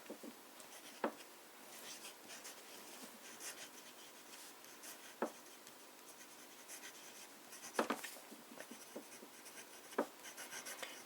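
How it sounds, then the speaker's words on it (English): Fine writing with a fountain pen in Pelikan Königsblau ink: soft, close scratching strokes across paper with a few sharper taps and lifts, heard alone without talk. "let's start with a bit of fine writing"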